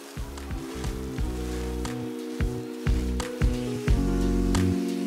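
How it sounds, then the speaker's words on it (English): Water rinses a K&N air filter from a BMW M140i, a continuous close hiss of running water with brief splashy surges and scattered taps as the flow hits the filter. "Now I like to rinse it from both sides."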